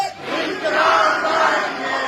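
A crowd at a protest sit-in at a bus terminal chants a revolutionary slogan back in unison, a loud sustained mass of voices rising and holding.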